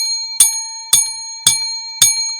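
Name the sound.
bell being rung repeatedly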